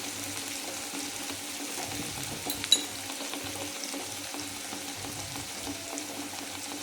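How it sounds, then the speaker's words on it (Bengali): Mustard and green chili paste frying in hot oil for a hilsa fish curry with pointed gourd and potato: a steady, close sizzle and crackle with one brief clink, and no voices. "ফোড়নটা একটু হয়ে গেলে, লাল হয়ে গেলে আমি এবার এখানে সর্ষে আর কাঁচা লঙ্কা বাটা দিয়ে দিচ্ছি"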